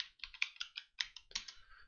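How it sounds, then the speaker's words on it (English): Quick run of about a dozen crisp keystrokes on a computer keyboard while typing a search, ending in a slightly heavier key press, close and clear with no talk. "So let's type in cheetah and press enter."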